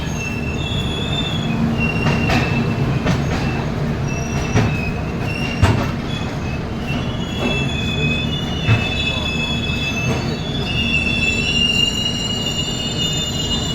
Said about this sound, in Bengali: ফাইনালি ট্রেন এসে পৌঁছালো তার ডেস্টিনেশন গুয়াহাটি